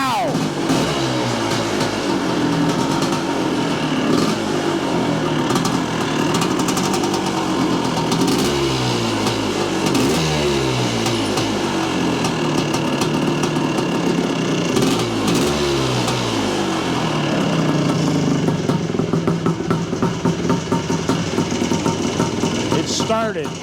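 An old Yamaha IT400 dirt bike engine runs near and loud after being kick-started, its single cylinder revving up and down in repeated surges with a steady throbbing idle between them, and voices talk faintly beneath.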